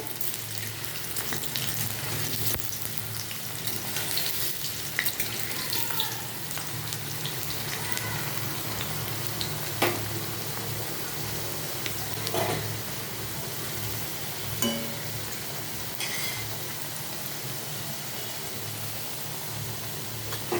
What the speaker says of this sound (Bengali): আলুগুলো 10 থেকে 15 সেকেন্ড একটু ভেজে নেবো মিডিয়াম ফ্লেমে।